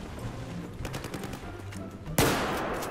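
Gunfire in Battlefield 4 online play, a sharp loud shot cracking out near the end after a stretch of quieter scattered distant shots and battlefield rumble.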